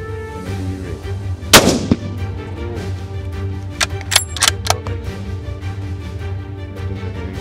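One sharp rifle shot cracks during a hunt in Namibia. It is loud and sudden against a low engine hum, and a few faint clicks follow.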